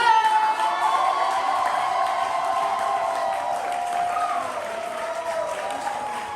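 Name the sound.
audience applause for the poet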